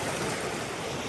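A stream at a trail water crossing in the Ozark Highlands, a brief, soft steady rush of flowing water with no voices.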